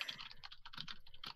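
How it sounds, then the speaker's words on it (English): Rapid typing on a computer keyboard, a quick irregular patter of crisp key clicks heard up close but fairly quiet, with no voices. "Who the hell is typing very fast?"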